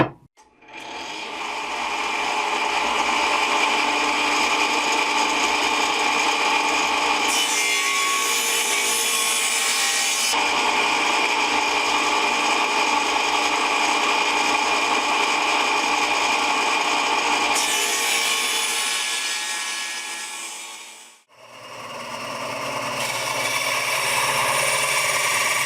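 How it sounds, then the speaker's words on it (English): Power saw ripping a wooden board in half lengthwise, a loud steady whining cut with a constant rasping tone that shifts pitch partway through, briefly drops out, then resumes, with no talking. "it's still way too thick, so I'm going to rip it in half, then I'll cut this out on the bandsaw"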